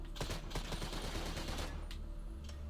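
Rapid bursts of gunfire during a GTA mission in an interior, fast repeated shots clustered tightly for a couple of seconds before tapering off to a few isolated cracks.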